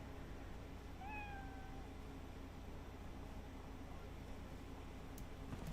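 A cat at a door wanting to be let out gives one short, rising meow early on, faint over a steady background hiss, then stays quiet.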